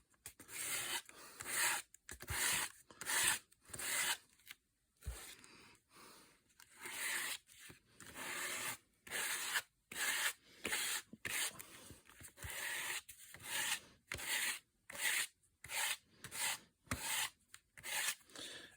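A palette knife scrapes paint thinly across a book page in an art journal, giving rhythmic dry rasping strokes, about two each second, close and steady with brief pauses between passes.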